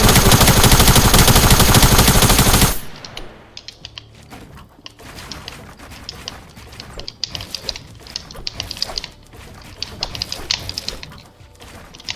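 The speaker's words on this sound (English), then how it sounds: "attack SMG sprayed at the air" An attack SMG in a video game is sprayed into the air in a loud, dense burst of rapid shots for about three seconds, then fainter scattered clicks and mechanical game sounds follow.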